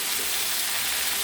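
Pumpkin pieces drop into vegetables frying in hot oil, giving a brief, even, close hiss of sizzling with no other sounds.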